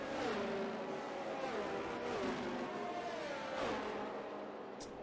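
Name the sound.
race cars driving warming tires in racing video game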